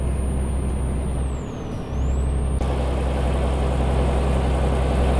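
Air brakes hiss on a Peterbilt 387 truck hauling an oversized load in Euro Truck Simulator 2, a loud, steady rush over the constant engine drone, with a falling and rising whine partway through.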